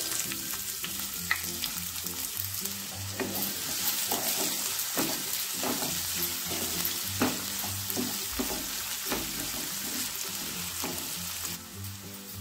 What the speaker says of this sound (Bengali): পেঁয়াজটা ব্রাউন কালার আসা পর্যন্ত ভেজে নিতে হবে